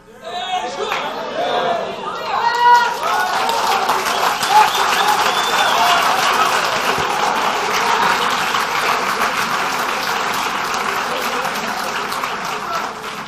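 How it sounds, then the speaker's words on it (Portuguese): An audience breaks into sustained loud applause during a church sermon at a reform and revival conference, clapping swelling after a brief spoken moment and continuing steadily with crowd chatter underneath. "Olha, não aplaude muito não"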